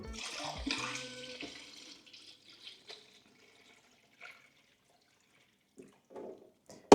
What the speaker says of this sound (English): So we need to fill this with water.